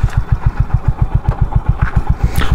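A Honda Highness motorcycle engine runs with a steady rapid thumping pulse, loud and close, while the bike is ridden, with no voices over it.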